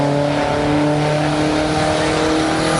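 An early bay window VW camper with a 1776cc engine accelerates down a drag strip, a loud, steady engine drone with a strained, buzzing tone, heard close and continuous.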